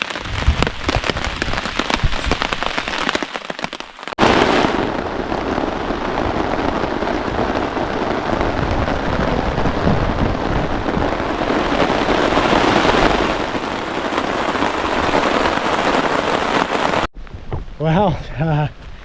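Torrential rain pounds steadily on a tarp over a tent at a remote campsite, a loud dense drumming that fills the whole stretch, with a brief quieter patch at the start and end.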